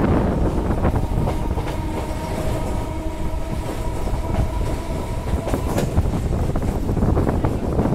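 A local train runs from Lakshmikantapur towards Namkhana in West Bengal: a steady, loud rumble and rattle of wheels on rails with faint clicking of the carriages, continuous and close throughout, with no talk.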